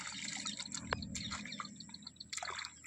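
Water trickles and splashes faintly into a flooded farm field, with soft irregular drips and gurgles close by.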